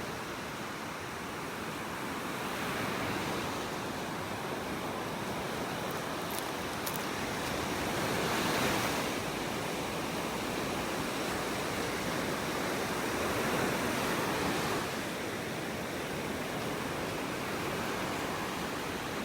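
Ocean surf rolling onto a beach in North Naples, Florida, a broad continuous wash of noise swelling gently every few seconds, fairly distant and steady, with no talking.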